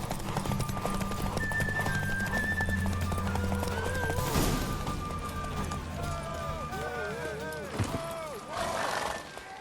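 A horse's galloping hooves pound in a fast, steady rhythm during a race in The Witcher 3: Wild Hunt, amid game music, with the horse whinnying and brief voices over the running.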